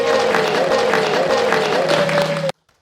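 Live studio audience applause during a podcast recording, a crowd clapping steadily under a sustained tone and background murmur, then cutting off abruptly into silence.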